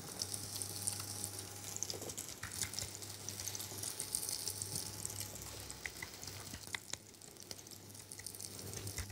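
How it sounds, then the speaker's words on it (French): Veal sweetbreads frying in hot oil give off a faint, steady crackling sizzle with light spattering pops and a low background hum throughout, with no talk over it. "on sent que l'huile est chaude. Donc, on va démarrer notre cuisson."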